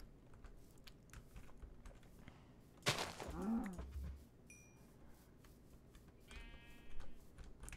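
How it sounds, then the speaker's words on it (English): A single sheep bleat from a Minecraft game, one wavering call lasting about a second, standing out over steady quiet keyboard typing and clicking that continues throughout. "That was a sheep, not a chicken."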